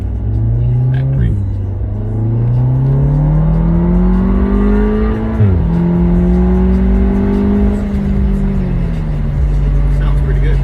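Inside an Audi S3, the engine and exhaust pull hard through several gears, a loud throaty rumble climbing in pitch with brief dips at each shift, heard from the cabin with someone talking over it.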